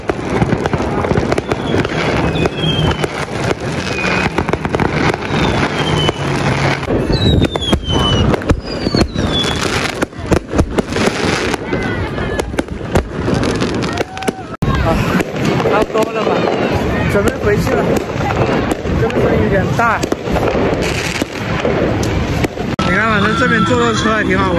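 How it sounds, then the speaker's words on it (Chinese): Fireworks set off at night on Hailing Island, Guangdong, with dense, loud crackling bursts and whistling rockets going up continuously, accompanied by crowd noise and nearby voices. "看到没有，那边的炮放得好猛啊。"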